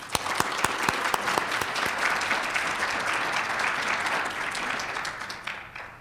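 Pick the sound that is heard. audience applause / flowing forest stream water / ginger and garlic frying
audience applause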